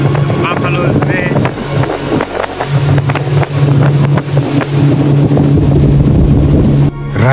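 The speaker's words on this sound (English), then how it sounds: "Riding on a boat here is much exciting than I can explain." A motorboat drones steadily on a river in Namibia, with wind buffeting the microphone, while voices talk faintly beneath the engine noise.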